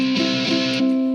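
Ukulele run through a Boss DS-1 distortion pedal, a few sustained, buzzy, heavily clipped notes with bright harmonic fuzz, loud and close, in about a second of playing.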